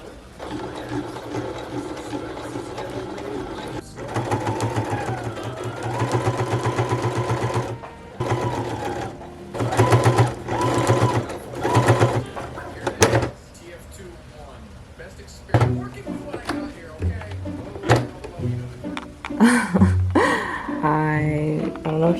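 A sewing machine stitches a pillowcase into a tote in bursts of rapid mechanical whirring, starting and stopping with pauses between runs, followed by scattered clicks and handling noises near the end.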